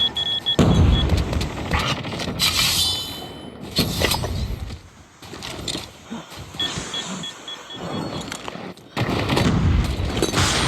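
Gunfire from an SMRS weapon in a video game tournament match, heard as several loud rapid bursts separated by short pauses, with mechanical clanks and engine-like rumble in between.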